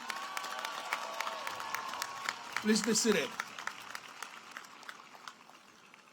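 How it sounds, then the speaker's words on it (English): Applause from a university commencement audience at NCCU's undergraduate ceremony, crowd clapping and cheering that swells briefly and fades while a voice speaks over it. "Please give Mr. Williams a round of applause."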